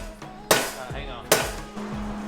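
A hammer strikes sheet metal from a DIY metal rose kit: two sharp, ringing metallic blows about a second apart, close and loud, with faint household background noise.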